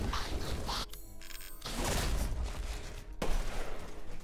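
Rapid bursts of video game gunfire crackle loudly through a busy factory-and-robot level, with a brief quieter gap and a sharp louder burst near the end, no talking.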